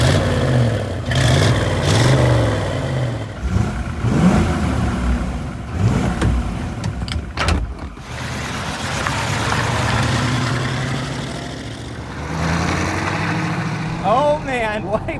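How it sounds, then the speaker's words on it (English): A 1950s Corvette C1 with a 283 cubic inch V8 starts up and runs, its deep engine rumble rising and settling in several revs over steady idling, with a voice heard briefly near the end. "Let's fire it up and see how it sounds and goes."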